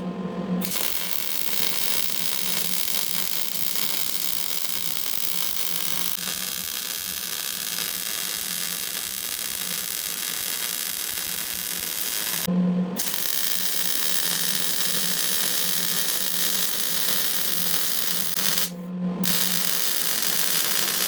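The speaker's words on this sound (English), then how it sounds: "We're gonna hit her with a grinder a little bit, hit it with a wire wheel" A grinder runs continuously against a weld on Hesston hay equipment, giving a loud, steady whine with a rough hiss. Two brief pauses break it, and no one speaks.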